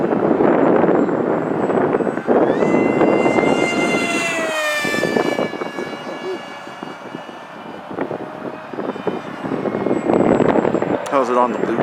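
Mini Dragon RC model airplane engine at full throttle, a continuous high whine with shifting pitch as it zooms past, steady and fairly loud amid wind noise, with people talking over it.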